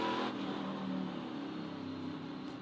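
A NASCAR Craftsman Truck Series truck engine refires, a steady, loud mid-pitched drone that holds throughout with a slight fade, with no talk over it.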